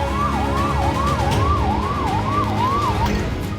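Emergency vehicle siren wailing steadily in repeated rising-falling sweeps over a loud, constant road rumble, near and unbroken, on a street in Akola, Maharashtra, amid burning vehicles.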